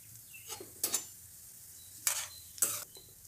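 Mustard seeds splutter in hot oil in a kadai on a stove while a sweet citron pickle is prepared: a few sharp, crackling pops spaced apart over a faint, quiet background.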